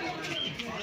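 Birds coo and call softly inside a walk-in aviary at Alipore Zoo in Kolkata, a brief faint murmur of pigeon-like cooing under a voice.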